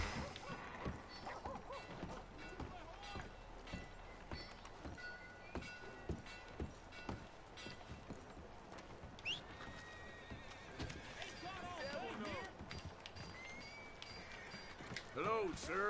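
Horse hooves clip-clop in the open world of Red Dead Redemption 2, with occasional whinnies and neighs, a steady trotting rhythm under game voices and ambient noise that builds toward the end.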